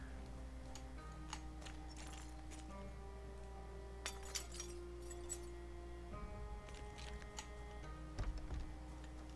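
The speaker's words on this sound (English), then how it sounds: "I've been just clearing out glass and everything, busting glass" Glass clinks and shatters in short bursts in the Project Zomboid video game, several sharp breaking hits scattered over a steady background of game music and ambience.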